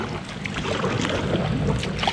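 Paddle strokes splashing through water in a canal while rowing a boat in rain, with wind buffeting the microphone, close and fairly loud, no talking.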